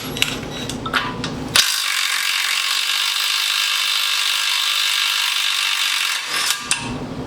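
Quick ratcheting clicks at the start, then a loud, sustained high-pitched whir of a power ratchet spinning a 24 mm bolt off a Honda Civic rear trailing arm, ending with a few more clicks.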